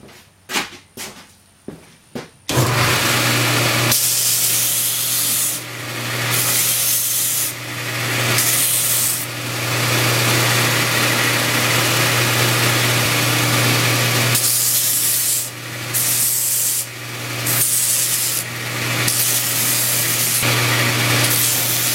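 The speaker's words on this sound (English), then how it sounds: "we just take them over here on the belt sander." Belt sander working on the ends of wooden parts in a 1926 Radiola 26 radio restoration, a few short taps before a loud continuous motor whir with harsh abrasive rubbing that swells and dips as parts are pressed in.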